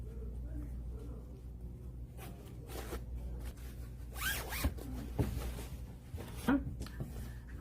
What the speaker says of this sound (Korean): 그럼 지퍼를 닫아 볼게요.